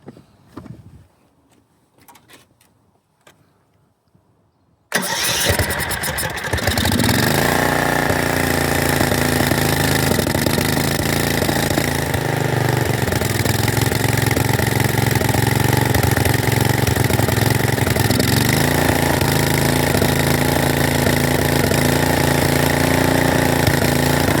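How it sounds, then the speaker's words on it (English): A small engine fitted with a new carburetor and an old governor spring cranks after a quiet stretch and fires up around five seconds in, then runs on loudly and steadily at a rough, uneven idle, close by and alone. "the governor definitely has control of the engine speed"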